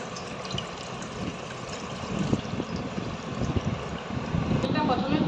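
Liquid pours steadily into a container for coconut kulfi, a continuous splashing, gurgling stream that grows a little louder toward the end, heard close with no talk over it.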